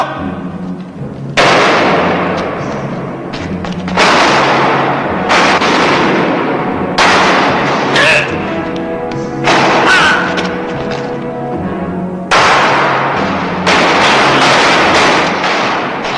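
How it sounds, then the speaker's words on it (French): Gunshots fired into the air in a western film, about eight or nine loud, sharp reports spaced a second or two apart, each with a booming echo that rings on until the next shot. "Mais pourquoi vous tirez en l'air?"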